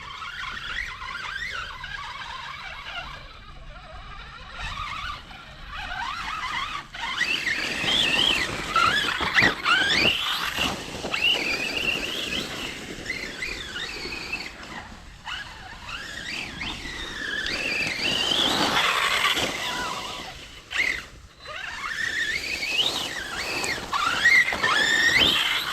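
Kagama RC car differentials slipping, loud shrill squealing that sweeps up and down with the motor's revs, nearby and continuous with a gritty drivetrain rattle underneath.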